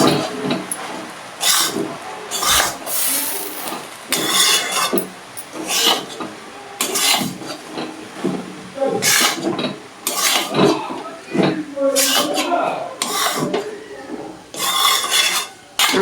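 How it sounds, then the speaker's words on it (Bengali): Chana dal halwa is stirred and fried in a pan, with repeated scraping and clinking of a spoon against the pan in uneven bursts and short pauses between strokes. "নাড়িয়ে নাড়িয়ে ভাজতে হবে।"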